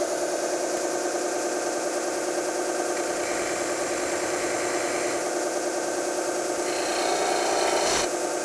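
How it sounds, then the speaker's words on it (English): An acrylic pen blank being squared down to its brass tube on a spinning tool, a steady loud grinding rasp over a motor hum, ending in a brief sharper scrape. "Let's go ahead and square the blank"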